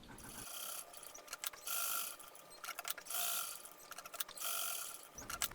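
A sewing machine joining two fabric panels, with bursts of rapid mechanical stitching chatter separated by short pauses, close and fairly quiet, without any talk.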